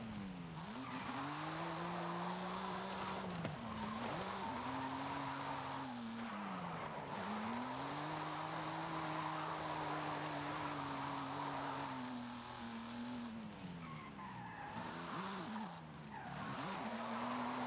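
A car drifts in Forza Horizon 5 on a mountaintop road, engine droning as tires squeal in long sweeping arcs broken by short shifts, fairly faint and steady with no talk.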